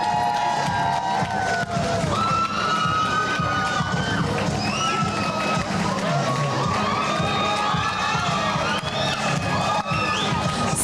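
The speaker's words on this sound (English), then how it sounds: "Ladies and gentlemen, let us applaud contestant number 5" Pageant audience cheering and whooping for a contestant at a live event, a loud continuous crowd roar with shouts and high voices riding over it, close and sustained throughout.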